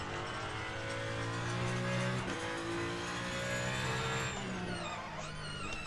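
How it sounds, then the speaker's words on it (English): In the Le Mans Ultimate sim, a race car understeers and locks its brakes, running straight on. A loud, close engine drone drops in pitch as tires scrub and squeal, with no talking. "Oh, big lock up there as we go straight on."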